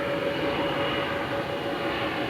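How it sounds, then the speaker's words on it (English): Regular airplane passing overhead at night, a steady broad engine roar with a constant tonal hum, sustained and fairly loud throughout with no voices. "yeah, that sounds like a plane."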